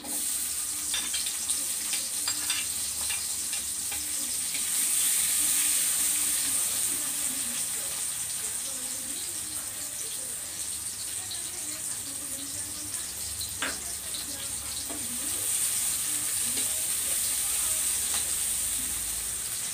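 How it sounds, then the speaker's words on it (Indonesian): Sliced shallots and garlic stir-fried in a pan, a steady hissing sizzle with a few soft stirring knocks, a louder burst of hiss partway through, faint and unbroken without speech. "saya mau tumis dulu bawang-bawangnya yang sudah kita iris tadi kita tumis"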